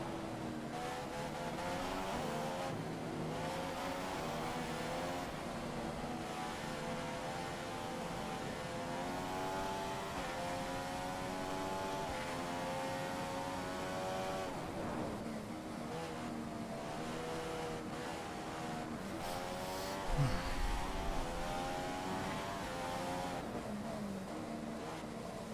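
Race car engine in the F1 2015 video game, a steady loud droning whine with rising and falling revs through gear changes, continuous and close, with a brief low thump near the end.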